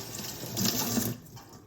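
Kitchen tap water runs steadily into a sink for a final rinse of collard greens, a soft, even hiss that swells briefly in the middle before fading, with no voices.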